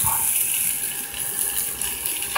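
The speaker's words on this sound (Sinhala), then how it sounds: "I'm gonna add some water into this now." Water poured from a tap into a pan of chicken and broccoli cooking on the stove, a steady close gushing stream that runs throughout before cutting off at the end.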